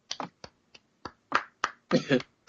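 A voice mimics a few sparse, unenthusiastic claps from a show audience with a series of isolated sharp clicks and short bursts, spaced irregularly and ending in a couple of breathy, louder sounds.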